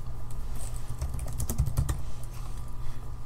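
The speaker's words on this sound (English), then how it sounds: "type tab on your keyboard, erase it, and type your name or text" Rapid keystrokes on a computer keyboard while text is entered in Blender, a dense close run of clicks with a few louder taps, no voices.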